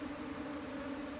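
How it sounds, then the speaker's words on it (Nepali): Honeybees drone around a beehive in a steady, unbroken hum, faint and continuous with no talk. "यो यताको उडेर उतै जान्छ कि यसमा पस्दैन"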